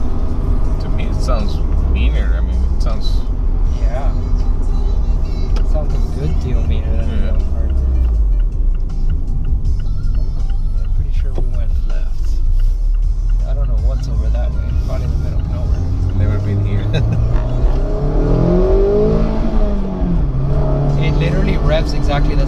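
A 2016 Mazda Miata engine revs and pulls through its range, loud and continuous with rising and falling pitch sweeps, heard from inside the car as people talk over it.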